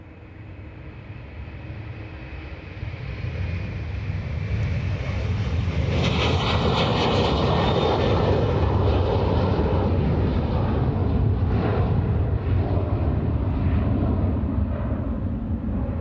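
A Ryanair airliner at Dublin Airport builds into a sustained jet roar, starting moderate and swelling to a steady, broad rumble that holds to the end, with no talking heard.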